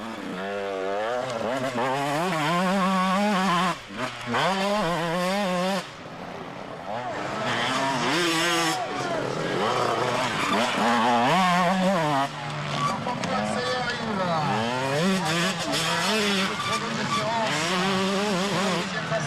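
A 125 KTM enduro motorcycle revs hard in a race stage, its high buzzing engine rising and falling through gear changes, loud and close, with a commentator's voice mixed over it.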